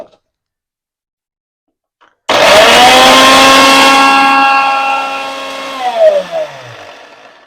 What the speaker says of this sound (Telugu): తర్వాత ఎల్లుల్లిపాయలు వేసుకొని మళ్ళీ ఒకసారి పట్టుకోవాలి